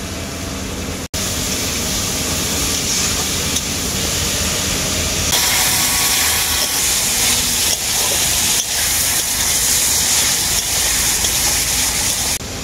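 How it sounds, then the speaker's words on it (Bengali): Vegetables fry together in a pan for egg chowmein, making a loud, continuous hiss that steps up in intensity partway through and runs on without pause. "সবজিগুলোকে আমি খুব ভালো করেই ভেজে নেব একসাথে।"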